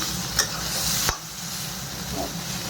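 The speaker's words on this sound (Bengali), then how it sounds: "আলু ভাজাটা আর একটু ওলট পালট করে ভেজে নিই" A spoon stirs and scrapes through potatoes sizzling in a hot pan, with a couple of sharp clanks early on over steady frying.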